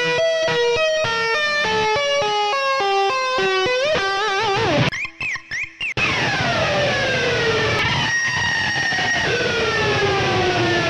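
An electric guitar mimics a British police siren, playing a loud two-tone wail that alternates steadily, then breaks into choppy stuttering bursts before falling into sliding, descending squeals.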